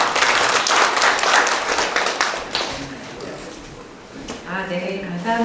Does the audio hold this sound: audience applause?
yes